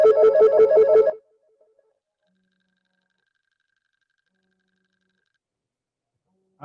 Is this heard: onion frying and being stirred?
no